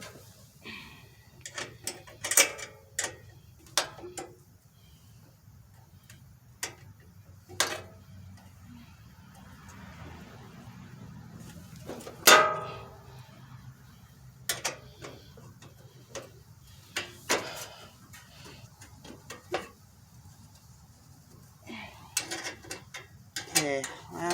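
Small metallic clicks and ratcheting taps come in scattered bursts as the carburetor is unscrewed from a 212 engine, faint and close, with quiet stretches between turns and some talking.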